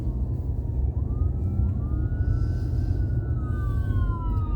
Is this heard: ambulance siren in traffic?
yes